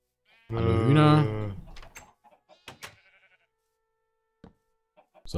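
Minecraft chickens cluck and a sheep bleats loudly at first, followed by sparse short clucks from nearby farm animals in a quiet game scene.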